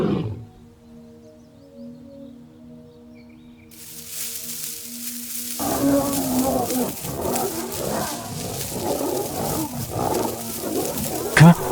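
Lions roar and snarl during a night fight as three nomadic lions ambush a male. A low tonal rumble comes first, then loud, dense, chaotic growling and roaring that continues to the end.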